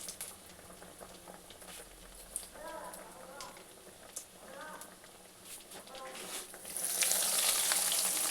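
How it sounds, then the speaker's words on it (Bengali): Potato and cauliflower chops sizzle and bubble in hot oil, a steady close crackle that grows louder toward the end, with a voice talking intermittently over it. "দেখুন আমার তেলটা কিন্তু বন্ধুরা গরম হয়ে গেছে। এবার আমি এটা ছেড়ে দিলাম।"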